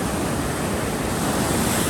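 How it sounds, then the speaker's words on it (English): Ocean waves crash and break steadily along a beach at Pine Knoll Shores near a rip current, a loud continuous roar of surf with some wind buffeting the microphone. "Where I'm standing right here, the waves are crashing and breaking in."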